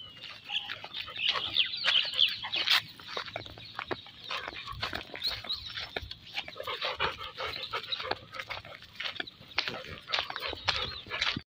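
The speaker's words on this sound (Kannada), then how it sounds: "ನಮ್ಮ ಕೋಳಿ ಬೆಳಬೆಳಗ್ಗೆನೆ ಮೊಟ್ಟೆ ಹಾಕೋದಕ್ಕೆ ಬಂದು ಕುತ್ಕೊಬಿಟ್ಟಿದೆ" A hen settled in early morning to lay an egg clucks in short, irregular bursts close by, mixed with other scattered animal noises and faint panting, with no speech.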